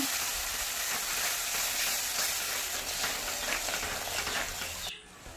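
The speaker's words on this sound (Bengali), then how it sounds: "তারপরে আমি একটু ভেজে নেব, মশলাটা ভেজে নিলাম" Cumin, bay leaf, dried chilli and ground spices fry in a pan for a mustard fish dish, giving a dense, continuous close sizzle that cuts off abruptly near the end.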